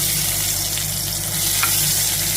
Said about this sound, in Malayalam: കറിവേപ്പില ഇട്ട് കൊടുക്കാം, അതിലേക്ക് നമ്മൾ ചതച്ച് വെച്ച ഇഞ്ചി ഇട്ട് കൊടുക്കാം